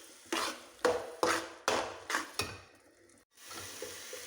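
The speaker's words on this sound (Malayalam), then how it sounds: "കുറച്ച് നേരം കൂടെ ഇളക്കി കഴിഞ്ഞാൽ ചക്ക വരട്ടിയത് റെഡിയാവും." A spoon stirs thick, sticky jackfruit varattiyathu (dried jackfruit) in a pan in a Kerala kitchen. About six rhythmic scraping strokes land close and clear, then fade into quieter stirring.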